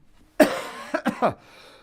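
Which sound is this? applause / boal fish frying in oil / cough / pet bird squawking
cough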